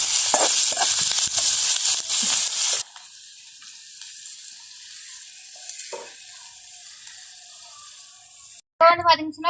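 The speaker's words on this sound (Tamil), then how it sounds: "பார்த்தீங்கன்னா வெங்காயம் நல்லா பொரிஞ்சிட்டுது." Onion, green chili, curry leaves and fennel frying in oil make a bright crackling sizzle that drops to a quieter hiss, with a short burst of other sound at the end.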